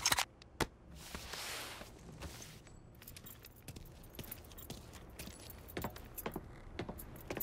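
Keys jangle in the Mafia III video game as a series of faint metallic clinks and taps spread across the stretch, with no talk over them.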